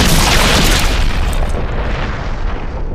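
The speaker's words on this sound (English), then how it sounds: "our heroes fly away just in time before the Spencer mansion explodes" A loud, sustained explosion as the Spencer mansion blows up in the Resident Evil video game, a deep continuous roar and rumble that fills the whole clip and slowly tapers off, with no voices.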